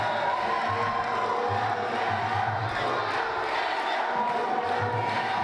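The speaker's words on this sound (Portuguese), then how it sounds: "A torcida vai gritando o nome do Gabriel." Spectators at a professional Muay Thai fight chant the name of fighter Gabriel, a steady, rhythmic crowd roar held at a distance and filling the hall throughout.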